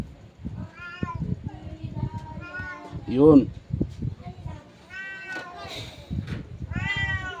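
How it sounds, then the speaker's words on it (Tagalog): A cat meows loudly and repeatedly, drawn-out cries rising over a person talking nearby. "naingay yung aking pusa"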